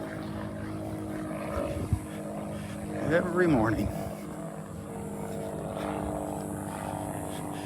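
A propeller plane drones steadily in the background over a beach in the morning, its engine hum swelling slightly as it passes, while someone speaks briefly nearby.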